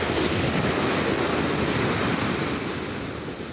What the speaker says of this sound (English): just gentle waves lapping against the shore